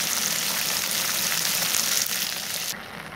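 Liver sizzles steadily in hot oil in a pan, a dense, close crackle running without pause and easing slightly toward the end.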